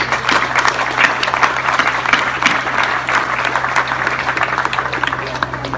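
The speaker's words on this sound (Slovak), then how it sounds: "Za to si naozaj všetci chovatelia zaslúžia veľký potlesk a aplauz." Sustained applause from a festive audience honoring livestock breeders and farmers at the opening ceremony of the NVHZ 2018 agricultural fair, dense and loud throughout with a steady low hum underneath.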